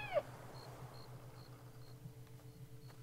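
A cat meows in a sniper shooting video game, a single short mew near the start followed by faint, repeated high chirps over a steady low hum.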